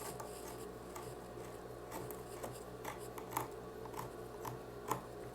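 Scissors snip through patchwork fabric laid on a tiled floor, cut along the grout line for a rug; soft, close scraping and rustling with a few sharper clicks, quiet and without speech.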